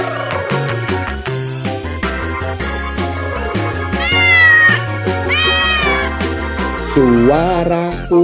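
A cat meows several times with rising and falling calls, clear and prominent, set against the music of a children's song with no talking.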